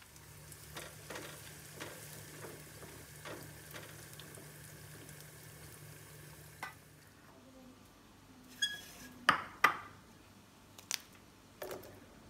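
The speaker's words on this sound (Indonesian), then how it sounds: "Panaskan minyak dan digoreng tempenya sampai kering." Tempeh sizzles and crackles steadily in hot oil as it fries until dry, a dense close hiss for several seconds that then drops away, leaving quieter bubbling and a few sharp clinks of a utensil against the pan.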